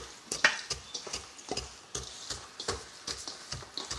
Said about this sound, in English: I'm going to have her finish mash the rice for me in here